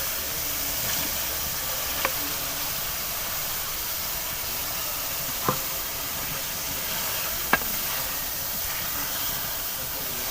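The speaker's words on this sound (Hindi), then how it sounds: "इधर हमारे स्पाइसेस की भुनाई हो चुकी है तो अब मैं इसके अंदर डाल देती हूँ आलू और जो अंडे मैंने काट के रखे हुए थे" Potatoes and cut boiled eggs dropped into a pan of roasted spices for a spicy egg curry hiss and sizzle in a steady, broad frying noise, broken by a few faint pops and clinks, with no talking.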